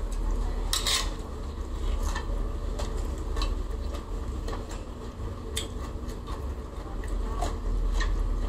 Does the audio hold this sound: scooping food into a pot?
yes